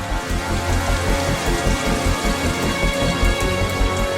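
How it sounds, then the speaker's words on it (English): Steady, heavy rain pours down in a dense, continuous hiss with no voices. "They fall as rain."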